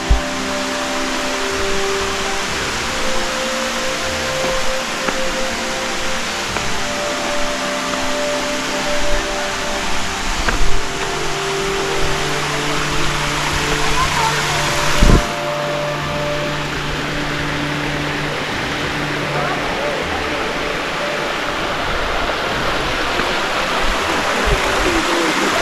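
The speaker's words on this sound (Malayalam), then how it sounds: "നമ്മൾ നടന്ന് ലാസ്റ്റ് 3ാമത്തെ വെള്ളച്ചാട്ടമായ തുമ്പിതുള്ളും പാറ എന്ന് പറഞ്ഞ സ്ഥലത്ത്" Thumbithullum Para waterfall at Thusharagiri, Kozhikode, rushes over rocks in a constant roar. The water noise stays loud, steady and unbroken for nearly half a minute, and no one speaks.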